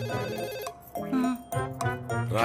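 A telephone ringing in repeated electronic bursts with short gaps between them, loud and close, in a comedic domestic scene.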